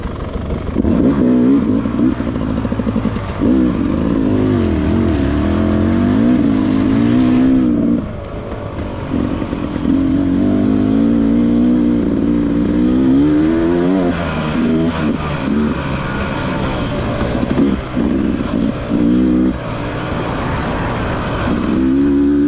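Trail motorcycles at a half-trail race in Iomerê, Santa Catarina, revving and roaring nearby, with engine pitch rising and falling continuously and several bikes overlapping loudly throughout.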